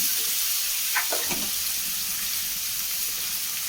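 Sliced onion frying in coconut oil in a pan gives a steady, even sizzle throughout, with a few soft clinks near the start.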